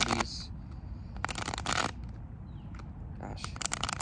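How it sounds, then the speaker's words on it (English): A tarot deck is riffled and shuffled in quick bursts of papery flutter and slapping cards, close and crisp, with brief pauses between rounds. "Shuffle these."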